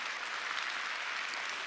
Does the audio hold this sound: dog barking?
no